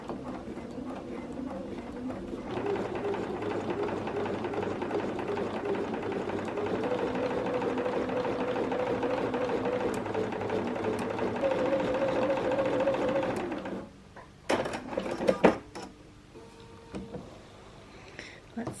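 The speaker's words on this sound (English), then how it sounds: "Let's stitch the first line." A sewing machine stitching a straight grid line on a mini quilt, its fast, steady mechanical whir running continuously for about eleven seconds before stopping, followed by a few clicks and handling noises.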